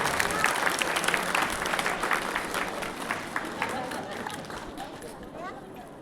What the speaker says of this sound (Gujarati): સ્વાગત વખતે તાળીઓનો ગડગડાટ આપણે કરીશું બધા